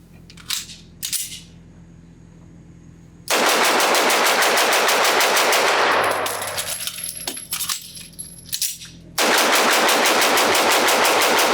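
A Vektor SP1 pistol, the South African Beretta 92 derivative, fired rapidly at an outdoor range: a couple of quick shots, then long loud strings of fast, evenly spaced reports, with a brief pause midway, as for a magazine change.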